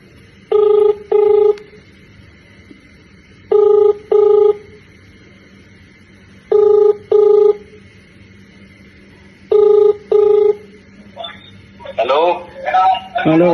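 A phone call is dialed, with four pairs of steady two-beep tones repeating at regular intervals. Near the end a short burst of other phone sounds follows, loud and close.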